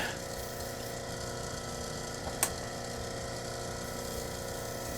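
Water running steadily onto a hard 300 grit lapidary grinding wheel as it spins, a constant close mechanical hum and wash with one brief sharp click partway through.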